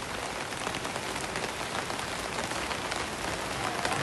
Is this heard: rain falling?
yes